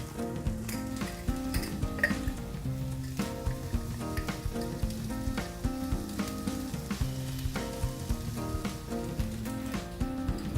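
Chili-spiced food sizzles steadily in a pan, a continuous frying hiss running beneath prominent background music throughout.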